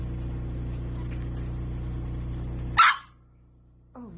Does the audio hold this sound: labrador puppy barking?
yes